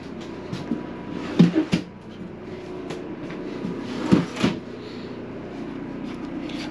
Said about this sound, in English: there are two large pull-out drawers that come out from underneath the